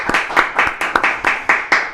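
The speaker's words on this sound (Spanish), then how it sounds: "Lo recibimos con un fortísimo aplauso." An audience claps for a speaker arriving at the official launch event of Paraguay's 2025/26 soybean season, giving a few seconds of loud, close, rhythmic clapping from a small crowd with no talk over it.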